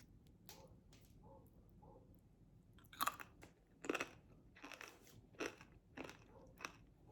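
Crunchy baked plantain chips being chewed up close, a series of sharp crackling bites and crunches, quiet at first then louder and more frequent, with no talking.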